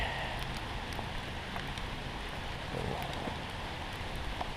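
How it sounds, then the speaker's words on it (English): Heavy rain falling through trees in Victoria, a steady diffuse patter with scattered louder drops, moderately faint and continuous, with no voices. "The rain's coming in pretty heavy, and it's actually starting to come through under the trees."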